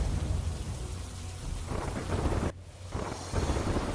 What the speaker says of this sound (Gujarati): પાટસર, દ્રોણ સહિતના ગામોમાં પણ વરસાદ વરસી રહ્યો છે।